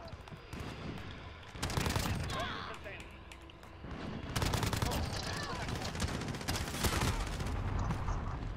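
Dense, crackling gunfire from Modern Warfare, including bursts from a Striker 45 submachine gun, running through most of the stretch with louder surges, while people talk over it.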